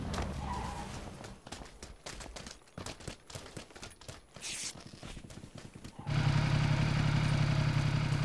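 In a video game, rapid clattering, hoof-like knocks give way near the end to a vehicle engine that kicks in suddenly with a loud, steady, droning hum that holds until the finish.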